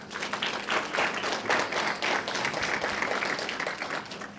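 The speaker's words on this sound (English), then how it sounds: "please give them a round of applause" An audience at an induction ceremony applauds, a dense, steady wash of clapping lasting a few seconds without a break.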